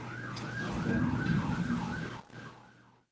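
A wailing emergency siren rises and falls continuously, fairly loud and close, fading out near the end.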